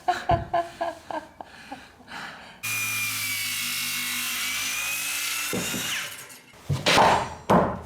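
Power sawing through wood during a DIY floor replacement in a Japanese-style room, a steady high whine running about three seconds, framed by sharp knocks and tapping of tools before and after, with no talk.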